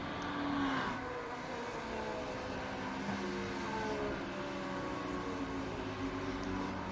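BMW and Ferrari GT3 race cars in iRacing at Watkins Glen International drone along together, engines whining and shifting pitch as they accelerate, steady and moderately distant.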